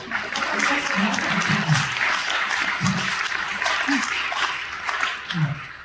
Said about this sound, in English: Again, an applause for Samantha.